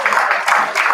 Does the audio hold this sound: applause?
yes